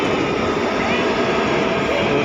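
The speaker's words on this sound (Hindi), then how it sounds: "सो ये मेट्रो आ रही है अभी, इसी मेट्रो से हम लोग जाएंगे कश्मीरी गेट।" Delhi metro train arriving at a station, a loud steady rumbling roar that fills the platform without any break.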